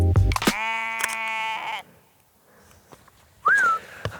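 A sheep bleats out in open countryside. A sharp tonal cry comes first, then a long steady bleat, a quiet pause and one short wavering call, all fairly close and clear.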